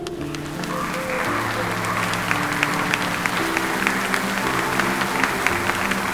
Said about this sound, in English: Then they started to applaud.